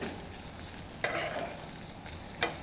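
Food sizzling in a frying pan while being stirred, a steady close frying hiss with a few sharp scraping spikes from the utensil moving through the pan, with no talking.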